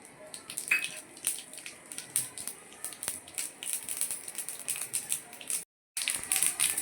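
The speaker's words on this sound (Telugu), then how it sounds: "దీంట్లోనే ఉండే ఆ నూనె వేడెక్కిన తర్వాత ఈ తర్వాత గింజలన్నీ ఇందులో వేద్దాం" Mustard seeds, urad dal, chana dal and cumin fry in hot oil for a raw-rice upma, with a steady close sizzle full of sharp crackling pops. There is a brief silent gap near the end.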